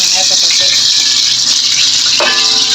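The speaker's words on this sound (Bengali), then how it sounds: "আমি এই কড়াইয়ে পেঁয়াজ নিয়েছি তেজপাতা নিয়েছি আমি এখান থেকে একটু তেল নিয়ে ফোড়ন দিয়ে দেবো" Onion and bay leaf hiss loudly as they temper in hot oil in a kadai where fish was just fried; a dense, continuous sizzle fills the clip, with a sharper burst near the end as more oil goes in.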